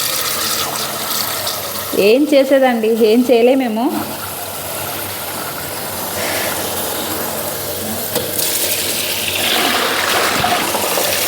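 Tap water pouring steadily into a kitchen sink in a continuous hiss, heard throughout; someone speaks briefly over it near the start.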